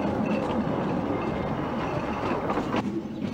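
A 1950s vintage narrow gauge locomotive runs along its rails with a steady, close rumble, rhythmic clatter and a few brief squeals of wheels, and no voices.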